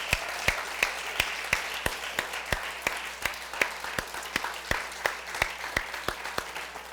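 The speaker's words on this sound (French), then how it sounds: "Est-ce qu'on peut applaudir chaque passeport?" Rhythmic clapping from an audience at a church gathering: a steady train of sharp, evenly spaced claps in unison over a low background hum, moderately loud and continuous.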